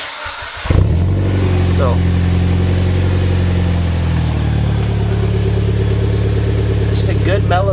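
A Mitsubishi Lancer Evolution X, still warm from driving, cranks briefly and fires up, then settles into a loud, steady, mellow idle close by, with a short spoken word near the start.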